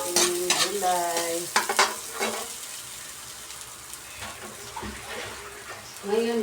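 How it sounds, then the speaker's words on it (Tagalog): Vegetables are sautéed in a pan for a home breakfast, with a soft frying hiss and occasional stirring clatter, framed by brief tonal, voice-like sounds near the start and end. "Ayan, magigisa na natin ang ating gulay."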